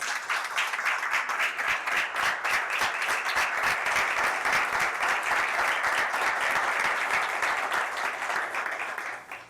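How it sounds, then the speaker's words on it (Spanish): A church congregation applauding, dense steady clapping from many hands sustained for nearly ten seconds before tapering off at the end. "Vamos a darle un aplauso al Rey de Reyes."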